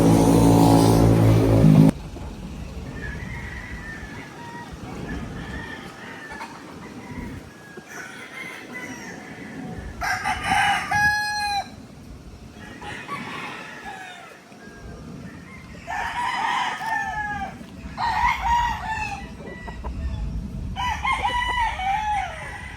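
Roosters crow repeatedly among chickens being carried for delivery to Ilocos Norte, several loud calls rising one after another over a steady vehicle rumble, with clucking and other fowl sounds in between.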